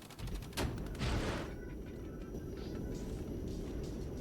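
Gunfire from enemy troops in the tactical war game Regiments: a couple of sharp bursts early on, then a faint, rumbling battlefield bed of distant firing.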